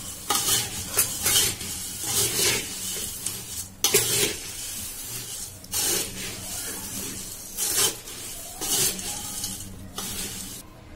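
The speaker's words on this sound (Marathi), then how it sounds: "हे सर्व मिश्रण आपण व्यवस्थित एकत्र करून घेऊयात" Chivda mixture of roasted poha being stirred with salt and powdered sugar, a repeated rasping, scraping stir of a spoon through dry flakes in a pan, loud and close, in uneven strokes with brief pauses.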